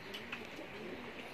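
Soft, low cooing of pigeons, faint and somewhat distant against a quiet background hum.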